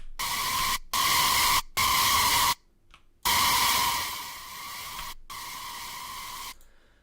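Harsh, buzzy synth lead holding sustained notes in short bursts separated by brief gaps, loud and gritty with a noisy, distorted edge.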